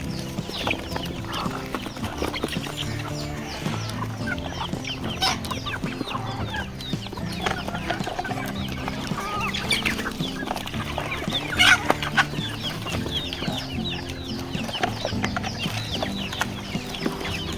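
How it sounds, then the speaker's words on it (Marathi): Free-range village chickens cluck and cackle continuously close by, with scattered scratching and pecking taps among them. "गावरान गावठी कोंबड्या आहेत तुम्ही पाहू शकता क्वालिटी त्यांची"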